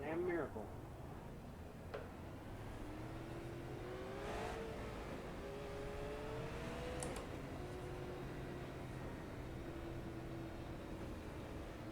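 Super Late Model race cars lap Irwindale in a racing game, engine notes rising and falling as they accelerate through the gears, a steady mid-level drone with shifting pitch sweeps, and talk present over it.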